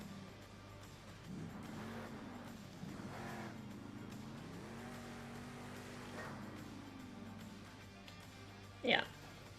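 A monster truck engine in the video game Monster Jam Steel Titans drones and rises and falls in pitch with throttle changes, fairly quiet, ending with a brief sharp squeal.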